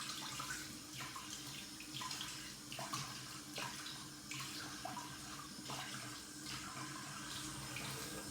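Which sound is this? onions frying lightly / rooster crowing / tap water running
tap water running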